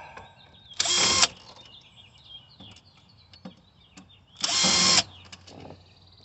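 Cordless power drill backing dash screws out of a Jeep Patriot interior after glove box removal: two short, loud whirring bursts about three seconds apart, with faint clicks and handling noise between and no talk.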